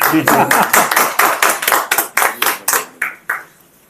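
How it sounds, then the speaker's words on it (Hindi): Sharp, close hand claps at a media literacy workshop, about a dozen strong beats in quick rhythm that weaken and thin out toward the end before stopping. "अपने लिए ताली बजाएं सर"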